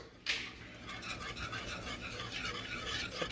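A whisk scrapes and stirs keto chocolate sauce in a pan off the heat, a steady close rasping and clinking that runs throughout after a sharp start, with no talk.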